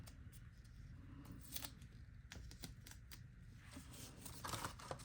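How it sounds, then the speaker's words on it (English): Tape peels off a small glitter container in a quiet room, making a faint run of ticking, crackling rips and light plastic clicks, close and soft, with no talk. "So I'm just gonna go ahead and remove this tape."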